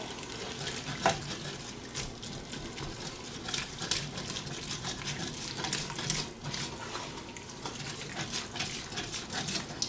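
Water pours into a pan of hamburger gravy and is stirred, giving a steady splashing, sloshing wash with scraping clinks throughout and no talking.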